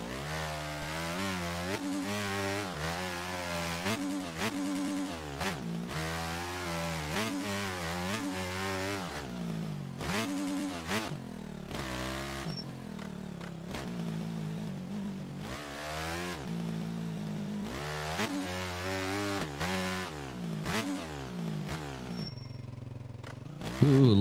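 Motocross bike engine from a motocross video game revving continuously, rising and falling in pitch as the throttle works through gears, loud and steady with a brief burst at the end.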